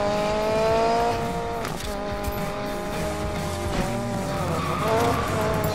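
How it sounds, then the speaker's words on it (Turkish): A drifting car in the Need for Speed Payback racing game, a loud sustained engine drone with tire squeal sliding in pitch as it swings through corners, no voices. "Oyun drift. Bu yarış drift yarışı."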